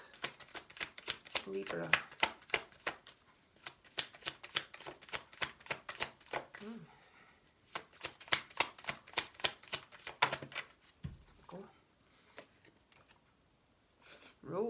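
Tarot cards are shuffled in quick riffling bursts with crisp repeated flutters, then laid and drawn with soft slaps, close and clear, broken by a brief spoken line.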